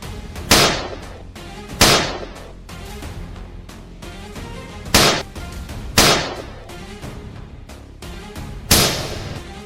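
Loud gunshots ring out one at a time at irregular intervals while shooting wild boar, each sharp crack trailing into a short echo.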